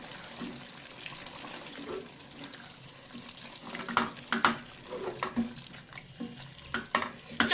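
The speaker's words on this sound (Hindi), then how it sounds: "ये मसालों की भुनाई करते हुए 1 से 2 मिनट हो गया" Crushed cumin and other spices stirred and roasted in a pot for turnip meat curry, with irregular scraping spoon strokes and soft sizzling close by, growing louder and busier toward the end.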